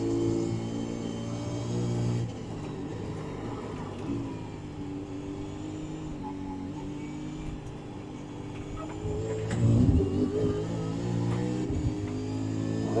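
A V8 Supercar engine in a sim racing game drones steadily as it pulls out of a corner, a continuous rumbling tone with a brief surge in pitch and loudness near the end.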